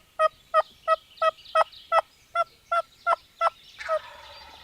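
A wild turkey gobbles repeatedly, about ten sharp evenly spaced calls in quick rhythm, close and clear against a quiet outdoor background, ending in a softer, rougher call.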